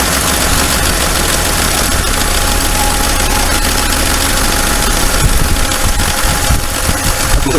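A diesel car engine idles after its injectors have been cleaned, loud and close, with a continuous rattling, knocking rumble and some vibration throughout.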